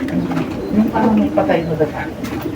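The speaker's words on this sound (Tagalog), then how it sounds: "Mauusay yung mga ibon niya mga kalapatids." Racing pigeons in a loft giving repeated low cooing calls close by, with people talking over them.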